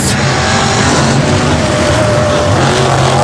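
Gravedigger Fire monster truck at the Monster Jam World Finals, a loud, steady, close engine roar filling the whole stretch with dense rumble.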